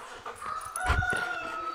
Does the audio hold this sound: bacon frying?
no